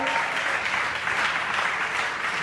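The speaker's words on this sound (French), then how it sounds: "Plus que ça, s'il vous plaît, acclamons le Seigneur." A church congregation claps and cheers together, a dense, even wash of applause that fills the room and holds steady without a break.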